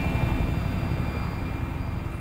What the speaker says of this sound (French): C'est dangereux pour l'hélicoptère de décoller.